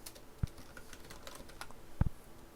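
A slide title being typed on a computer keyboard in PowerPoint, with a few sparse key presses up close over a low background hum.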